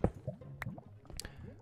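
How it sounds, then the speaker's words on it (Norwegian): Water in a video game gives a few soft drips and squishy liquid plops in quick succession, quiet and close. "Jeg hører også renne vann."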